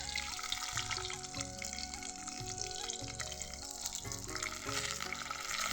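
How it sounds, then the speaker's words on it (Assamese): Fish frying in a pan in a home kitchen, onions frying in a kadai alongside, gives a steady, close, continuous sizzle with faint tonal sounds running underneath. "মাছ ফ্ৰাই কৰি আছোঁ"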